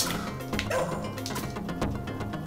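A dog in the Shadow Dancer arcade game barks and yips repeatedly at a low level. The barking sits among game sound effects and music.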